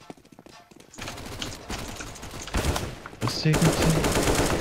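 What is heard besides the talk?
gunshots in CS:GO, from a video game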